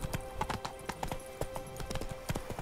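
Roach the horse galloping in The Witcher 3 game, a quick rhythmic clip-clop of hooves, close and fairly loud, with faint background sound and no talk.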